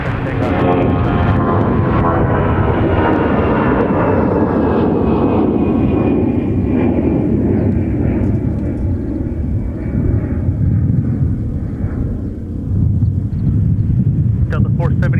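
A jet airliner rolls down runway 30 left and lifts off at Minneapolis–Saint Paul airport, its engines a loud, steady broadband roar that slowly fades, with wind buffeting the microphone and air traffic control voices alongside.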